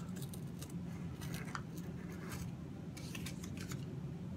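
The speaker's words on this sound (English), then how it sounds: "you can just rip this backing paper or get some scissors and cut it" Scissors snipping through vinyl decal backing paper, several quick crisp cuts in short bursts with pauses between, close and clear against a quiet room, no talking.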